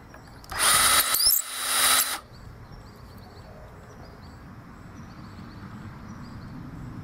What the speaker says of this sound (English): Cordless drill, set high speed, standard 3/8 chuck.